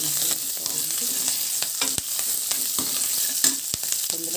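Tomato pieces frying in a pan with asafoetida for hotel-style idli sambar, a loud continuous close sizzle punctuated by regular sharp stirring scrapes and taps.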